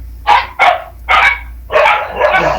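Several dogs bark in a series of four or five loud, close barks spaced unevenly, with no talking between them.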